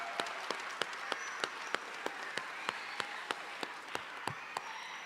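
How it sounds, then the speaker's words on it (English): Sparse, faint clapping rings out at a graduation ceremony, a few distinct claps spaced at a steady rhythm as an audience offers applause to staff and teachers. "So let's give the Conservatory of the Arts staff and teachers, administration a round of applause."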